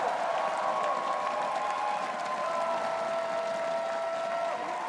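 A large crowd at the League of Legends LCS Spring Playoffs championship final applauds steadily, a sustained wash of clapping with faint cheers and tones from the arena sound underneath.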